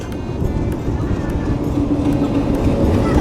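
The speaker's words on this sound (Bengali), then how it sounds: "ডাব্লুডিএম থ্রি ডি লোকোমোটিভের সাথে ভ্যাকুয়াম ব্রেক নিয়ে মোহাম্মদনগর রেলওয়ে স্টেশনে প্রবেশ করছে ট্রেন নম্বর পঁচানব্বই ছিয়ানব্বই মোংলা কমিউটার" The Mongla Commuter train, hauled by WDM-3D diesel locomotive 6508 with vacuum brakes, rolls into Mohammadnagar railway station with a loud, close, continuous rumble that holds steady without a break.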